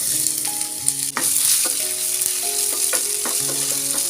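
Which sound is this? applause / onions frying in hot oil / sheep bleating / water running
onions frying in hot oil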